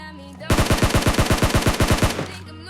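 Rapid automatic gunfire from a weapon in the PUBG Mobile battle game, a loud sustained burst of about fifteen evenly spaced shots lasting under two seconds, close up and alone.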